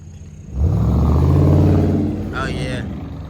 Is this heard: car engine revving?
yes